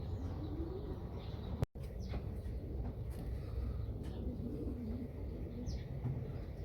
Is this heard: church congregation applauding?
no